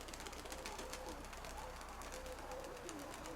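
Pigeons coo softly and faintly in low, rolling calls under a steady background hiss.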